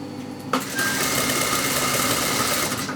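A sewing machine stitches fabric during garment shaping, its motor whirring steadily and close after a brief quiet start, running alone without any voices.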